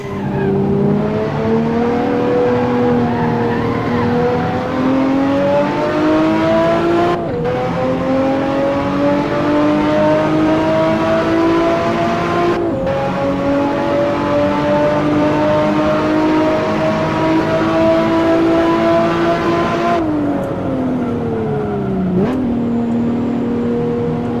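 A race car in Assetto Corsa runs at high revs with a loud, sustained engine whine that climbs steadily, broken by a few sharp upshifts and a brief downshift near the end.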